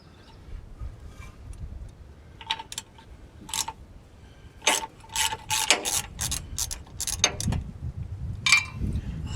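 Pieces of a 144-piece socket set handled at a Dresser 100G track loader, with metallic clinks, ratchet clicks and rattles coming in irregular clusters, close and moderately loud.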